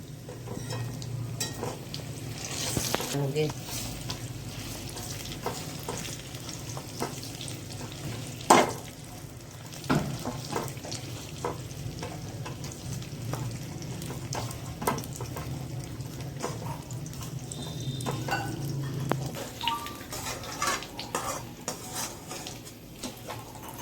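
Dates cooking in a pan over a very low gas flame, stirred now and then with a spoon, giving soft scraping and clinking against the metal over a steady low background hum, with no talking.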